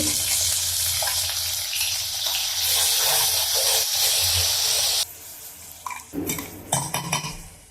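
A spoon stirs masala into browned onions in a hot oil pan for boiled egg bhurji. A loud steady sizzle gives way to clattering metal scrapes and knocks against the pan.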